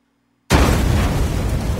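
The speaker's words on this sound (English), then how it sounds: "there's the sound of the flames coming at him." A designed flame explosion sound effect for action scenes bursts in abruptly after a moment of silence, then sustains as a loud, dense, airy roar of rushing fire.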